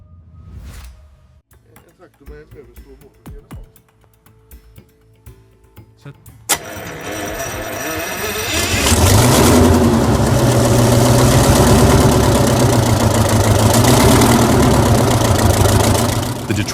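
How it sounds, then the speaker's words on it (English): An old Detroit 516 engine cranks with faint clicks and clatter, catches with a sharp bang and rises into a loud, throbbing run, settling into a steady, rumbling idle close by. "The Detroit 516 hums with quiet authority, every pulse measured and deliberate."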